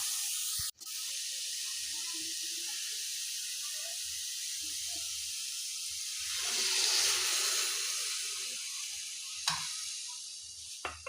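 Water poured into a hot pan of cooking beetroot sets off a steady hiss and steam, swelling briefly midway, with a few faint clinks and no talk.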